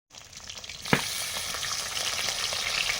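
Pieces of hilsa fish head dropped into hot oil in a pan, with a sharp hiss at the start followed by loud, continuous crackling and sizzling close by, and no talking.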